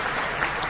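Steady applause from a wrestling show audience, a dense wash of clapping that holds evenly through a short moment with no voices over it.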